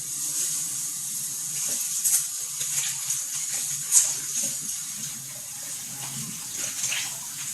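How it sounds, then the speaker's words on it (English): Water runs steadily from a kitchen tap while hands are washed during beef soup cooking: a continuous close hiss and splash with small shifts and splatters as hands move under the stream. "I'm going to wash my hands."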